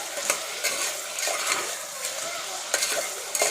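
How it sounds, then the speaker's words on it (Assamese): Mutton curry stirred in a pressure cooker, a rough continuous sizzle punctuated by several sharp scraping strokes of a spoon against the metal, close and fairly loud. "দিলে আকৌ লৰাই দিব"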